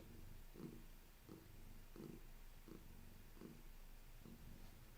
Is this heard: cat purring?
yes